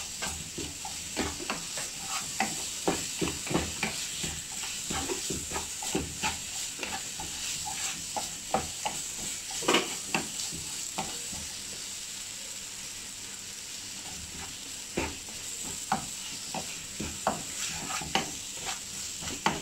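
Masala for Kerala avoli (pomfret) pollichathu being stirred in a frying pan: a steady sizzle and hiss under repeated scraping strokes of a spoon, close and continuous, with no talking.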